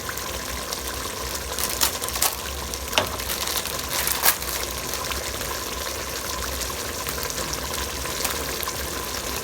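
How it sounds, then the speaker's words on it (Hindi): Chicken curry frying in a pan as dried kasuri methi is stirred in, a steady loud sizzle and bubbling hiss with a few brief scraping clatters from the mixing, close and continuous. "कसूरी मेथी डाल के इसको हम थोड़ा सा मिक्स करेंगे इस टाइम पे"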